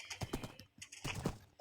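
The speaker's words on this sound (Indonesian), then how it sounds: "Aku pun lanjut berjalan menggunakan kuda yang aku miliki." Horse hooves clip-clop in Minecraft as a ridden horse walks along, a few quick uneven thuds in two short bursts, fairly quiet and close with no talking over them.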